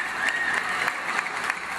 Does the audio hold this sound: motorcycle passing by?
no